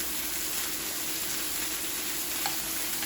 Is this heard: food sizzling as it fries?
yes